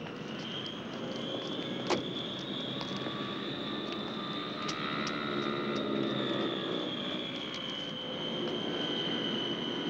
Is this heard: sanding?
no